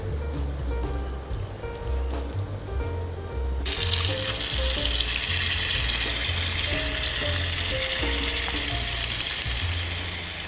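A steady, broad hiss of water boiling hard in a pot, with bubbling and a low rumble underneath, loud and continuous after a quieter start.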